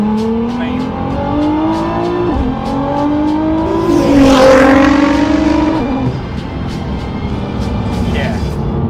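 Nissan GT-R R35 with a fully built engine and proper headwork accelerating hard on the road, its engine note climbing through gears loud and close inside the car, with a brief voice over the roar.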